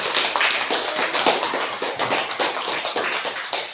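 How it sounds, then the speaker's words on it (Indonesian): A classroom claps after a group presentation, giving a few seconds of brisk, fairly close, uneven hand claps with no talking. "Iya, beri tepuk tangan untuk kita."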